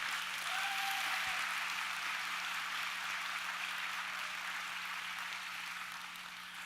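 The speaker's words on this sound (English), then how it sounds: "Big round of applause for Rosie Stead, please." Applause from an audience at a youth awards event, a steady, even wash of clapping that sounds distant and diffuse, holding at a constant level with a faint hum running beneath it.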